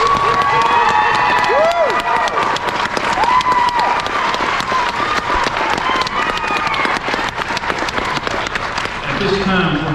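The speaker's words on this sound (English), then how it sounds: "Let's give everyone another round of applause." A crowd at a nurse pinning ceremony applauds loudly and cheers, with whoops and shouts rising over dense clapping throughout, close and continuous.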